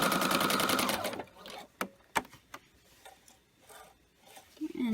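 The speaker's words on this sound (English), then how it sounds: "Then I'm going to stitch all the way to the end, and I'm going to back stitch." A sewing machine stitches through PUL fabric and a cotton bag in a loud, steady whirring run for just over a second, followed by a few sharp clicks and quiet handling sounds.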